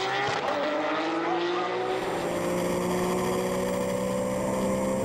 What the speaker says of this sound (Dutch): We blijven bij de First Motorsport Porsche van Frank Bailey richting chicane.